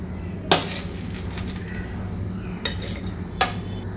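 Chutney ingredients for karuveppilai chutney tip into a mixie jar: a few sharp clinks and knocks against the jar at separate moments over a low background hum, with no talking.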